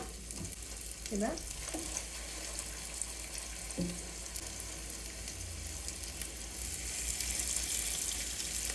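A beef burger patty fries on a griddle, giving a steady sizzle throughout with faint clinks and a brief spoken word.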